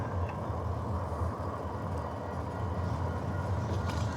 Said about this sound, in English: We are getting caught by the train.